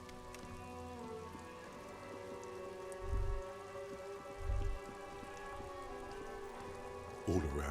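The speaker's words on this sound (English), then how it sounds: "All around you, rain falls on the great city of Revachol." Steady rain patters over the city of Revachol in the Disco Elysium video game, a soft constant hiss under sustained musical tones, with a few dull low thumps.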